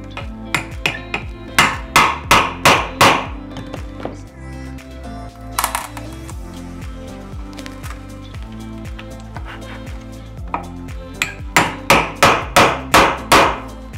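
A hammer striking repeatedly to drive a nail out of reclaimed wood, loud close rapid bursts of ringing blows in several runs separated by short pauses, with no speech.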